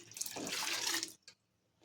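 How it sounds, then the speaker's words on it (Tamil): Lentil cooking water is poured into a pot of sambar in a home kitchen, giving a close, steady splashing gush for about a second that stops abruptly, followed by one small splash. "அந்த பருப்பு தண்ணியை வந்து சேர்த்துக்கிறேன்"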